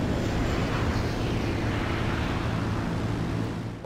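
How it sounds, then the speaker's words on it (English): Jet aircraft in GTA V roaring nearby as a steady, dense broadband rush with a low rumble, loud and constant throughout. "Okay, it's a jet right there."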